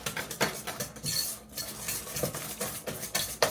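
A spatula scrapes and knocks around a bowl of gluten-free gingerbread batter, quick irregular clacks and scrapes in close succession, near and clear with no voices.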